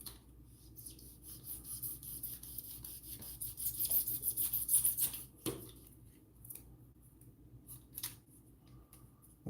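A sharp blade scrapes and shaves material to smooth and round it, giving close, dry rasping strokes that build in the middle and then ease off, quiet and without speech.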